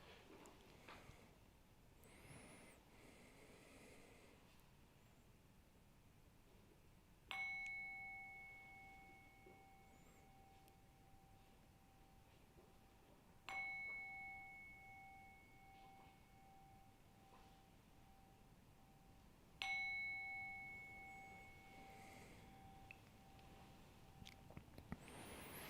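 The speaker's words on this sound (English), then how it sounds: "I'm going to ring the bell 3 times" A meditation bell is struck three times at even intervals of about six seconds during a live guided meditation, each clear ring swelling and then sustaining a long, steady tone over a quiet room.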